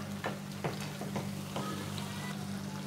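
Sushni greens with potatoes and fried bitter gourd sizzling in a pan, soft steady frying with a few brief scraping stirs, fairly quiet and without talk.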